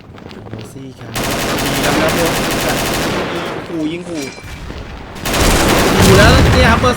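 Automatic gunfire from the XSHOT online shooter game during a competitive esports match, heard as loud, sustained rapid bursts with explosive booms, overlapping a commentator's voice.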